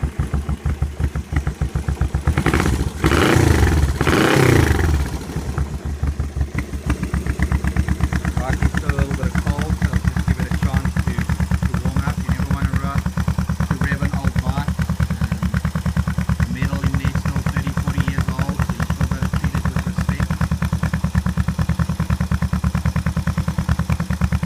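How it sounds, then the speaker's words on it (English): A Honda CB360 cafe racer motorcycle fired up with the starter button, a brief loud cranking burst that catches, then a steady close rumbling idle with a clattery throb. "this is our starter button, so let's give it a crack"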